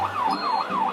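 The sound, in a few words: ambulance siren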